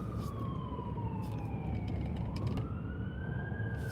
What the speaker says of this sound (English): I hear the sirens, but I don't see them.